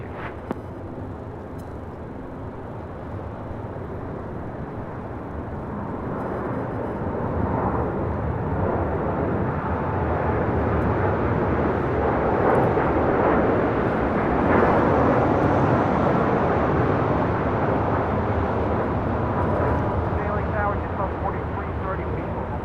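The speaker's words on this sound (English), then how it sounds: "27 taking off to Tokyo Haneda on a 787-8 Dreamliner" American Airlines Boeing 787-8 Dreamliner takes off from LAX, a broad jet roar swelling and holding loud over about twenty seconds, with a voice talking over it.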